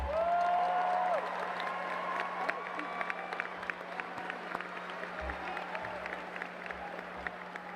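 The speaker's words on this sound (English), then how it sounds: "please stand up so everybody can give you a round of applause" Applause from a crowd in a large hall fills a 2019 high school graduation ceremony as the school staff stand. The clapping is broad and sustained, with a faint tone running underneath.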